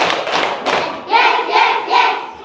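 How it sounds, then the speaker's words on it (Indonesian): Schoolchildren in a classroom clap in a counted pattern: a few quick separate claps, then three fuller grouped bursts that follow a steady rhythm, close and fairly loud. "Tepuk 1. Tepuk 2. Tepuk 3."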